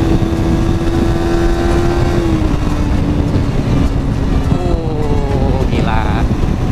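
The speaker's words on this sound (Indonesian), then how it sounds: "Wah gila, mesinnya liar kalau ditarik." A Suzuki GSX-S150 motorcycle engine revs loudly and close by, its pitch climbing and dropping in steady pulls, with someone talking over it.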